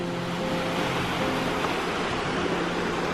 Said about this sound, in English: So we found a little river.